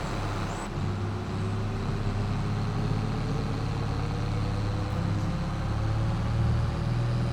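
A diesel tractor engine runs steadily on a New Jersey farm before heading out to fertilize a field, a continuous low rumble with a steady hum, fairly loud and unbroken throughout.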